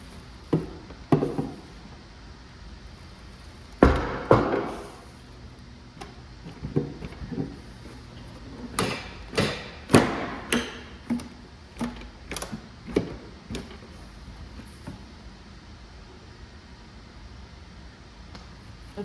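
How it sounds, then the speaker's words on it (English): Work on a 2015 Ford F-150 with a glued-on fender being pried loose makes scattered close knocks, taps and sharp creaking pops, clustered irregularly over a quiet background with no speech. "we're gonna have to do some prying on it to get it to want to come loose."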